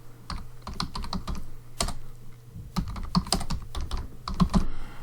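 Rapid keystrokes on a computer keyboard come in short irregular bursts with brief pauses, close and clear, with no one speaking.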